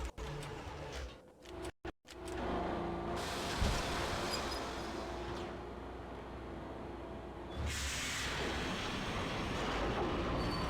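A train in the video game Max Payne, a loud continuous rumble of rolling rail cars with clattering wheels and some metallic squeal, steady and close, surging louder near the end.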